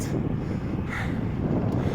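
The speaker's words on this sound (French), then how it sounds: "il y a encore du vent" Wind blows outdoors in a steady, close rumble buffeting the microphone, with a dull low roar that stays constant and no voices.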